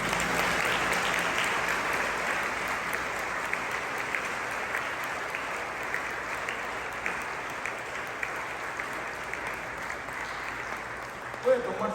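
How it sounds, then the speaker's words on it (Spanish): A church congregation claps loudly and steadily after a Spanish-language sermon, a dense wash of applause from a large crowd that runs without pause and without speech on top. "Den un fuerte aplauso al Señor."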